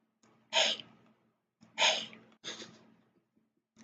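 A voice imitates a cat's meow with three short, breathy, close-up calls, the first two stronger and the last softer, with brief pauses between them.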